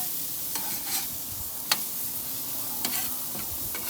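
Mushrooms sizzle steadily on a PK360 grill while being stirred, with a continuous frying hiss broken by a few sharp scrape-and-clack accents from the utensil moving them around.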